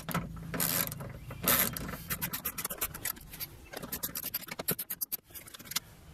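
Rapid ratchet clicks in repeated bursts, close and fairly loud, as 10mm bolts are loosened on a Buick LeSabre door panel; no voices over the ticking.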